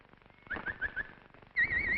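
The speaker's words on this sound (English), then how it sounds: "Shut these damn birds up." Birds give short, thin whistling calls in two brief bursts, fairly quiet and close, with a soft background murmur.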